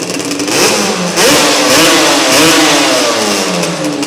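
A desert quad bike fitted with a Yamaha RX100 engine revs loud and close, a steady two-stroke roar that rises and falls slightly in pitch without pause, with no talking.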